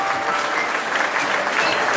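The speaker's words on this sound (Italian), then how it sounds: "Io chiederei, se possibile, un applauso" An audience in a disco dance hall in northeastern Italy, where an orchestra plays, breaks into a short burst of dense, even applause from many hands, close and continuous throughout.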